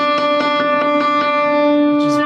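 A bright, bare-sounding old upright piano without its felt plays a quick run of repeated plucky notes over a ringing sustained tone, ending with a short noisy burst.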